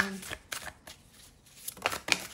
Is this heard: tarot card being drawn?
yes